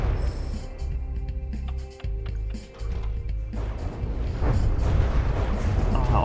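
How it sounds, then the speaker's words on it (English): Underwater explosions in a video game: heavy, rumbling booms roll on continuously, deep and muffled, with a dense low-end roar that swells louder toward the end. "All those explosions, although being underwater, it's nice"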